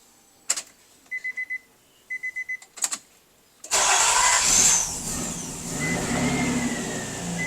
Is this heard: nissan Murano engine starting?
yes